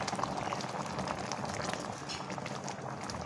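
A pot of sweet-sour mango khatta, chunks of mango in liquid, boiling at a steady rolling bubble, a soft continuous gurgle and pop close up with no talking.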